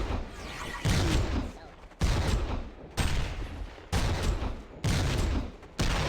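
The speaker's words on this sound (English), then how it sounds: "More shooting, less running." Bursts of rapid gunfire from a video game rattle out in about five loud volleys, each lasting roughly a second with short gaps between them.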